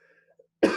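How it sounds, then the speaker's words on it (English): A single loud cough close into a microphone, bursting abruptly after a near-silent moment with faint background tones. "I just coughed right into the mic."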